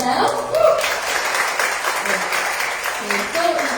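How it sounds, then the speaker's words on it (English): Audience applause in a crowd at a business event, a steady wash of clapping running the whole time with a voice talking over it. "Give a big round of applause to yourself."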